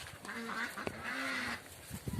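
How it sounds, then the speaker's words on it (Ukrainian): Ducklings quack and honk in short bursts close by, a few calls overlapping with soft outdoor background noise. "Каченятка."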